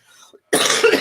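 A single loud, harsh cough from someone with a loosening chest and throat, close to the microphone after a brief quiet intake.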